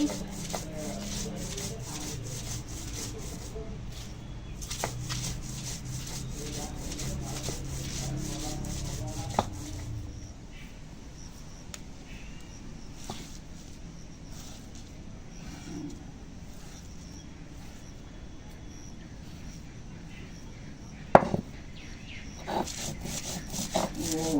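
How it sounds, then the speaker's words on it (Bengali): Ridge gourd peels being ground into a paste by hand, a steady rhythmic rubbing and scraping up close that turns softer and sparser midway, broken by a few sharp knocks. "এবার খোসা বেটে নিচ্ছি"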